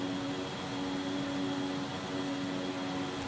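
Steady, continuous drone of a Beechcraft C90B King Air's turboprop engines in a flight simulator game during descent on approach, with a constant tonal hum running evenly under a broadband whoosh and no talk.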